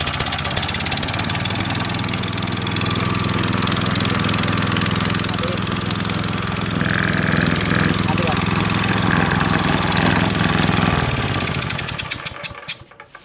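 Honda GX160 small engine running steadily and loudly after a cylinder head gasket repair, a continuous close drone that cuts off near the end, with speech over it.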